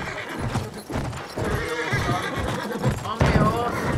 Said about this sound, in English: On your horse, mate.